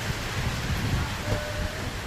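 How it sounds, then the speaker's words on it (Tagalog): Heavy typhoon rain driven by wind at night in Las Piñas City, a steady dense roar of downpour with gusty low rumble, continuous and close throughout. "kung walang hangin yan, malakas ang ulan na yan."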